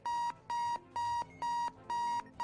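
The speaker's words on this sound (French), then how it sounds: "C'est le réveil matin là." An in-game alarm clock rings in five evenly spaced electronic beep bursts, bright and steady with short gaps between them, heard alone without talk.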